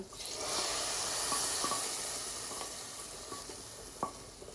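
A tempering of spices sizzles and hisses loudly in hot oil over a pot of haleem, a steady frying hiss with small pops and occasional stirring clinks.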